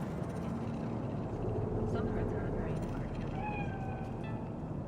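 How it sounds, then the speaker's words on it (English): A cat meows in the Cyberpunk 2077 video game, a few short, soft mews rising over a dense, steady bed of city ambience with distant traffic hum. "Do you see it? That cat?"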